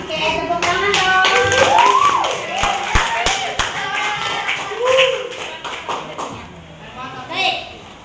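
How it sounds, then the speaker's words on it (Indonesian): Students in a school counselling class clap their hands, a short burst of sharp claps among lively talking and children's voices, with a few loud isolated slaps standing out near the middle. "Oke, tepuk tangan dong."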